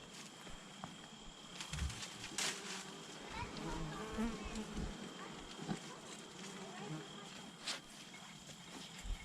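Honeybees buzz steadily at close range around their hive, a continuous insect drone with scattered rustling and brief movement noises, no talking.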